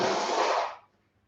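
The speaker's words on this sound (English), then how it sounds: "let me blow my nose over here" A woman blows her nose in one strong, breathy burst lasting under a second, close and loud, then trails off into quiet.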